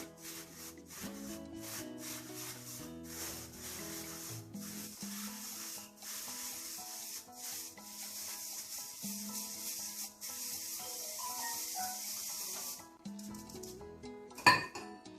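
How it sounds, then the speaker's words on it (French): Ghribia cookie dough is worked in a bowl with continuous rubbing and scraping strokes, close and moderately quiet, with a few light clinks and a sharp knock near the end. "Et je mélange."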